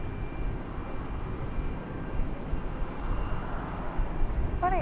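Airliner engines roar steadily at DFW Airport during a takeoff or landing, a broad distant rumble that holds at a fairly even level throughout with no voices.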